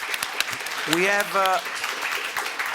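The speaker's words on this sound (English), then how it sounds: "I would like to reserve an applause to our panelists." A conference audience applauds the panelists at a closing plenary session, a soft, scattered patter of clapping under a voice that speaks briefly over it.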